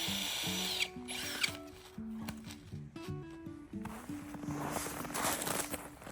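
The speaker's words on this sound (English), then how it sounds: "I'm just drilling to make sure that we're not gonna fall through." A power drill bores into lake ice about six inches thick, whirring in short stop-start bursts, close and fairly loud, with crunching footsteps on the ice between runs.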